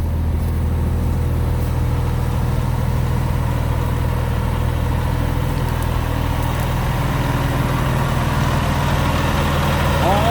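The heavy diesel engine of a LiuGong S935A wheeled sugarcane harvester idles steadily at close range, a continuous low rumble with a faint mechanical rattle throughout.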